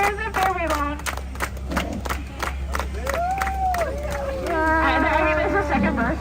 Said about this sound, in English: Everybody clap with me.